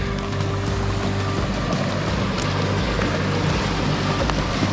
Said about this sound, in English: Lovely little creek here.